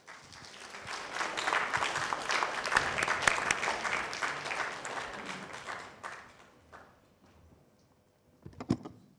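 An audience at the GhIE Manifesto Series 2024 applauds its president with a fairly distant crowd clapping that holds for about six seconds and then fades, followed by a brief clatter near the end.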